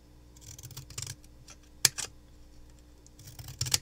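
Scissors cut paper for a handmade Valentine's card, giving a few short, close, crisp snips in bursts with one sharp click, all quiet against a faint background hum.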